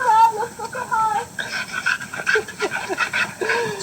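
Dogs panting at a shelter playgroup for adoptable dogs, steady quick breathing with occasional whimpers and yips close by, mixed with people talking in the background throughout.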